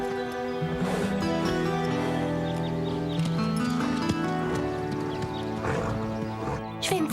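Horse in a French riding-school drama, with clip-clop hoof sounds and faint snorting over a steady music bed, close and continuous throughout.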